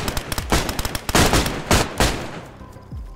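Rapid bursts of heavy-recoil gunfire from a DayZ video game weapon, loud close cracks in quick uneven volleys that thin out toward the end, with no talk over them.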